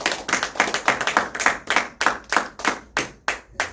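A church congregation claps in unison during a Sunday service, a loud, regular rhythm of sharp, evenly spaced claps that loosens and slows toward the end, with no voices.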